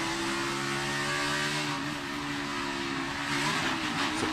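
Onboard NASCAR stock car engine with Joey Logano driving: a loud, steady V8 roar at high revs, holding a constant pitch throughout with slight swells, no talk.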